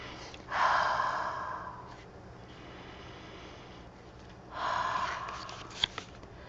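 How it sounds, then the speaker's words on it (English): Someone takes two long, close sniffs from a box of crayons, each drawn in for over a second with a quiet pause between them and a couple of small clicks after the second. "They're only for sniffing."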